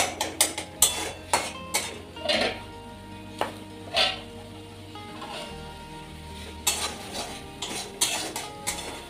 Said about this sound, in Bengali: মশলাটা ভালো মতো কষে নিয়ে রাখো